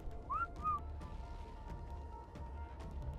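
Two short rising whistle chirps from a follow command in the video game ARK Genesis ring out near and clear, then only a faint low background hum remains.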